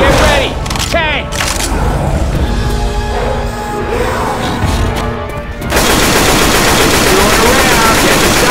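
Rapid gunfire in Left 4 Dead 2 against the Tank on a dark carnival map, dense loud continuous bursts of shots with shouting voices mixed in, then an even denser roar of fire.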